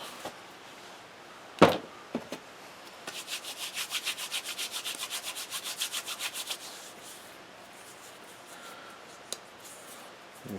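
A hand scrubbing and sanding an old wooden skateboard deck: a sharp knock, then a run of quick rhythmic rubbing strokes for several seconds, close and fairly quiet, tapering off into near silence.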